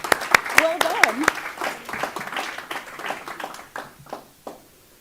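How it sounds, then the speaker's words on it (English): A round of applause at a school district board meeting: sparse, uneven claps from a small room that begin under speech, build briefly and thin out to a few isolated claps before fading. "I think we should give them a round of applause"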